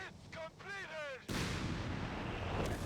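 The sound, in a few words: gunfire from units attacking ground in Company of Heroes 3 video game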